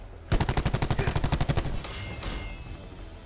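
Rapid automatic gunfire from the Call of Duty Black Ops 4 video game, a burst of about fifteen sharp evenly spaced shots lasting over a second, then a fading echoing tail.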